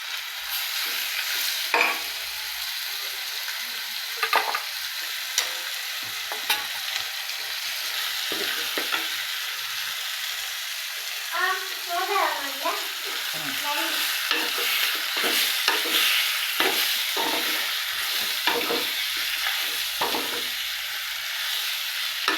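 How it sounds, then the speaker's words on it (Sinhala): Pork pieces for a curry fry in a pan with garlic, giving a continuous sizzling hiss broken by intermittent scraping and tapping of a stirring utensil, close and steady, with no one speaking. "මස් ටික දාලා පොඩ්ඩක් ටෙම්පරාදු වෙනවා"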